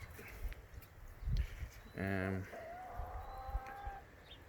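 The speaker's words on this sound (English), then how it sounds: "The chickens are still getting everything ready, digging everything up." Chickens cluck and call nearby in a quiet outdoor setting, with one brief louder squawk and a longer drawn-out call following.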